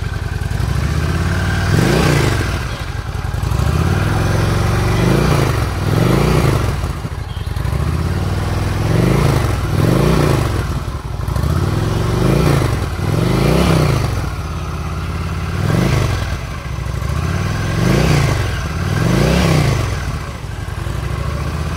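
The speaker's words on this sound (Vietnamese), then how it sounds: "Chiếc xe này nó sử dụng bô-zin nhưng mà nghe âm thanh nó cũng rất là hay ha" A Honda Shadow Aero 750 cruiser with stock exhaust revs again and again, each throttle blip rising and falling in a regular rhythm over a deep, throaty idle, loud and close with no talking.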